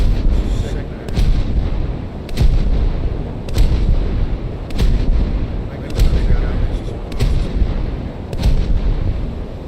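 Destroyer guns fire in a naval video game: loud, sharp booming shots land roughly once a second in a regular rhythm over a continuous rumbling background.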